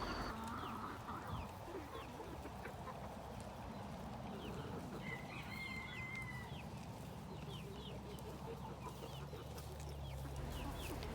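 A game rooster clucks faintly and intermittently outdoors against a steady background hiss, with no voices.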